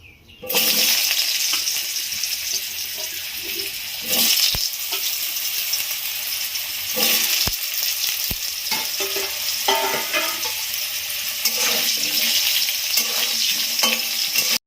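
Potatoes frying in hot mustard oil in a kadai (wok), with a steady loud sizzle throughout and occasional stirring scrapes and clinks of a spatula against the pan.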